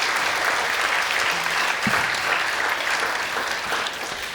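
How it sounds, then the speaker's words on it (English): An audience at an awards celebration gives a round of applause, a dense continuous wash of clapping that holds steady for over four seconds with no speech over it. "Let's give her a round of applause."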